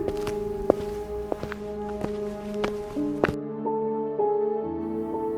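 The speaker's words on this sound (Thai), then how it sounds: "เสียงใครเดินอะ" Footsteps in the video game Avatar World, a regular series of sharp, close taps over soft background music, about one step every half second before stopping.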